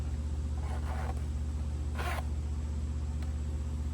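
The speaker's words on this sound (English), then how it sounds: "Those are the YKK zippers." A YKK zipper on a Red Hawk haversack gives two short, quick zipping strokes over a steady low hum, with a quiet pause between them.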